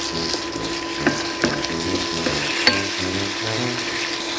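Tomatoes and sauce frying in a pan for scrambled eggs with tomatoes: a close, steady sizzle with a few sharp stirring clacks and scrapes of a utensil, no talking.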